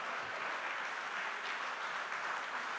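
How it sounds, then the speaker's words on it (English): A conference hall full of Rotary delegates claps steadily for the armed forces, a dense unbroken patter of many hands at even volume, heard from a distance without speech. "that's the applause they deserve"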